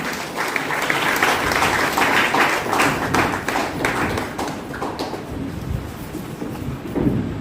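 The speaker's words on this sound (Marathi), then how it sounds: "आपण जोरदार टाळ्या वाजवायच्या." An audience at an anniversary ceremony for a disability welfare organisation claps loudly and steadily for several seconds. The dense applause thins toward the end.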